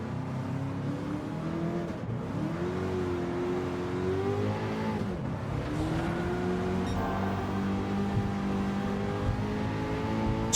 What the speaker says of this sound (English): So much wheel spin.